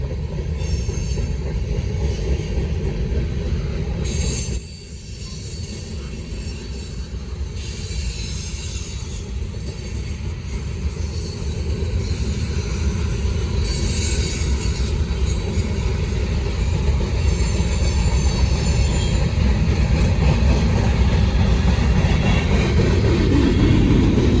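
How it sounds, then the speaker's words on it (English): A Norfolk Southern train on the Charlotte District rolls past close by, a loud steady rumble of cars and wheels with faint squeals and clatter, building slightly toward the end. "I record a lot of trains right here"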